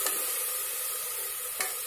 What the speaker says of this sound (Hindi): अब हम इसे लाल होने तक भूनना है।